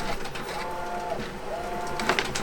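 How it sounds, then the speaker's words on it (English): An Epson F570 roll printer runs steadily, with a continuous mechanical hum and faint whirring carriage tones that rise and pause in a low, even background. "this is a printer that I use. It's an Epson F570."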